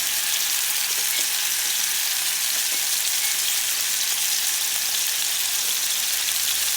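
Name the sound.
ostrich steaks frying in a pan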